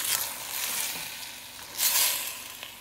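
Vegetables and spices, including celery and pepper, are stirred in a hot pot for brown stew chicken, giving a steady close sizzle with a louder surge of frying and scraping partway through.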